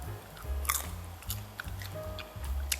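Someone chews cheese-flavored Jolly Time microwave popcorn up close, with repeated crunchy bites and soft mastication sounds in an uneven rhythm, with no voice present.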